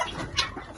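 A rooster on a farm kept with guinea fowl gives a short, close cluck, a brief burst of throaty notes with no talk over it.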